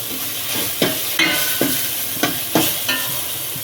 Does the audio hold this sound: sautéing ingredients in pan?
yes